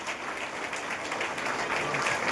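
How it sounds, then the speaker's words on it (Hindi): Steady applause from an audience at a direct-selling business plan presentation, a dense unbroken patter of many hands clapping at moderate volume throughout, with faint voices mixed in. "जोरदार ताली बजाएं भाई।"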